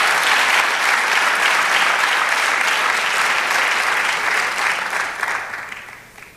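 A church congregation breaks into sustained, dense applause, loud and steady from the start, then thinning and fading toward the end with no talk over it.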